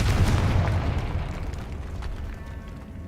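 The Confringo explosion spell in the video game Hogwarts Legacy goes off as a loud, deep blast that rolls into a fading rumbling tail, close and alone without talk.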